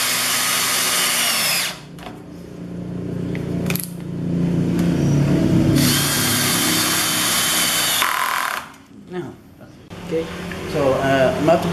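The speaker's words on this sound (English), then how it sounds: "I'm just going to screw these up now" A power drill drives long stainless steel screws into wood while building a compost tumbler, with several bursts of rising motor whine separated by pauses, close and loud, and a person talking between the drilling.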